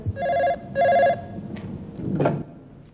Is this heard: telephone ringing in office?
yes